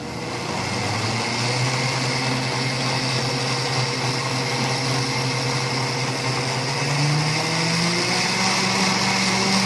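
A KitchenAid K150 blender runs on low speed while rinsing water inside its jar, giving a steady, close motor whir with a sloshing hiss that holds throughout and rises slightly in pitch near the end.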